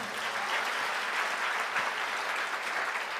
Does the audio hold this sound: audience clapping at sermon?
yes